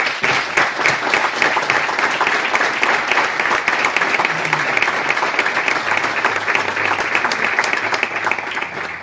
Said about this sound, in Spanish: Y ahora quería pedir un aplauso para Juana la Menor.